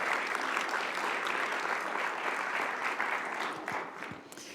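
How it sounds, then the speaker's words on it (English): An audience at a Redmond State of the City address gives a round of applause, dense sustained clapping from a large crowd that thins and fades toward the end. "can we give them another round of applause for all the great things they do?"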